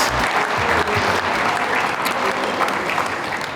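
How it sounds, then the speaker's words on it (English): At a 2024 SFL/SFLW football league awards presentation, a crowd applauds steadily, a close, dense, even roar of clapping with no voices. "Round of applause again for your Nyetta Lynch medalist, Grace White,"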